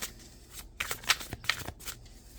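Tarot cards shuffled and flipped at close range, a quiet run of soft riffling with a few crisp snaps as cards are drawn and laid down, with no voice over it.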